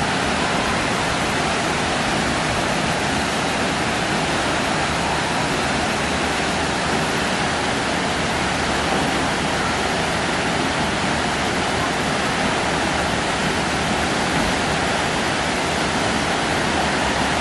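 Mohini waterfall roars as a steady, dense broadband wash of falling water, close and unbroken for the whole stretch, with no voices over it.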